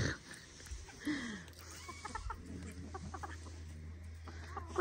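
Chickens cluck softly and intermittently against a low background hum, with a few scattered bird calls.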